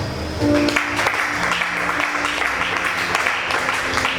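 Loud, sustained audience applause at a spiritual gathering with prophet Sadio of Gabon, a dense wash of clapping hands that swells after a brief start and keeps going steadily throughout.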